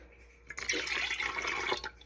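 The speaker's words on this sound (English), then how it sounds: "1 cup of lemon juice, as you can see, and I'm pouring that here" Lemon juice, a full cup, poured into a container while making a sugar-free Master Cleanse style drink; a steady liquid pour runs for about a second and a half at close range with no talking.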